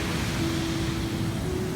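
Water from Tat Chanan Waterfall in Bueng Kan pours steadily down over rock, giving a constant, dense rushing roar with no break across the short stretch.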